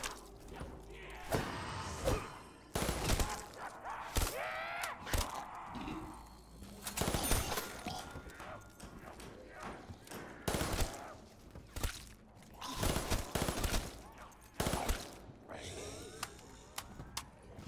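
An M16 rifle fires in a video game zombies mode, with sharp irregular bursts of shots spaced across the stretch, some clustered rapid volleys, and a voice talking between and over the gunfire.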